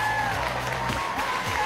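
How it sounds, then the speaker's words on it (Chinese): A studio audience applauds a singing-contest champion on a Chinese TV music show, steady dense clapping filling the room at a constant level. "我们要把更多更热烈的掌声送给开心歌迷会二零一二年度歌手挑战赛本场比赛的冠军葛林"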